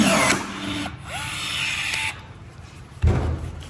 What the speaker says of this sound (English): And the last rivet.